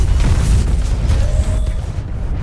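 A heavy, rumbling grenade blast in the shooter Destiny fills the whole moment, a dense low roar that stays loud throughout.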